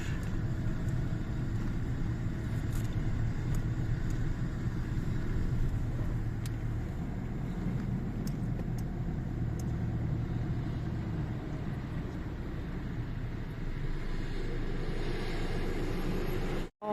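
Steady low road rumble and engine drone heard from inside a moving car, continuous and even throughout with no talking, ending in a brief dropout.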